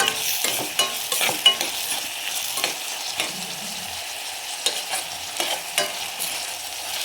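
Sliced onions frying in a pan for a mushroom gravy, a steady soft sizzle broken by repeated scraping strokes of a spoon stirring them, no voices.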